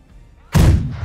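Cannon fire from a ship in the naval video game Blackwake, aimed at an enemy brig: a sudden heavy booming blast after a quiet stretch, loud and close, with rumbling low end that lingers.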